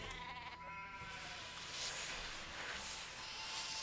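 A sheep in the video game Nancy Drew: The Haunting of Castle Malloy bleats a few times over a steady hissing background, the calls wavering and somewhat nasal, fairly close.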